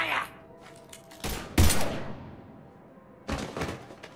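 Gunfire in the Mass Effect 3 video game arrives in two loud, sharp bursts separated by a quieter gap, with a heavy thudding impact among the shots and low ambient rumble beneath.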